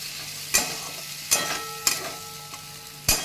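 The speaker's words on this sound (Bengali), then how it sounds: "মশলাটা ভালো করে এবার কষিয়ে নিই একটু আমি টমেটো দিয়ে দিলাম" A spice paste with tomato sautés in a pan, a soft steady sizzle broken by four sharp scrapes of a spoon against the pan as it is stirred, with no voices.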